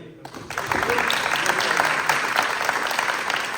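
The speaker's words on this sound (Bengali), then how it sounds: "তো আমরা আপাতত একটু যে যেভাবে পারি একটা হাততালি দিই" At a spring badminton tournament in Tokyo, a small crowd breaks into steady, fairly close clapping after a short quiet opening, with mixed hand claps going on without a pause and no clear talk over them.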